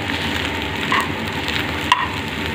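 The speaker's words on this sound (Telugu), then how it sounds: "ఎగ్స్ని ఈ విధంగా ఫ్రై చేసుకోవాలండి" Eggs frying in a pan for egg noodles, a steady crackling sizzle with faint clinks of stirring, close and continuous without talk.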